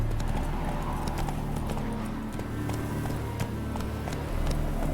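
Roach, a horse in a video game, gallops with a quick, steady clip-clop of hooves over continuous ambient noise and low music, moderately loud throughout.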